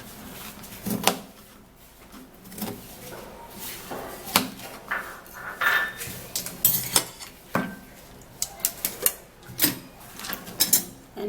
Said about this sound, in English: we're going to do is to cut this cucumber into some pieces